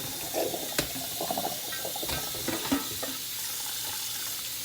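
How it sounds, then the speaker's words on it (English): Fish being rinsed with water while preparing Jamaican brown stew fish, with faint splashing and trickling and a few soft handling knocks close by. "you want to wash your fish real good"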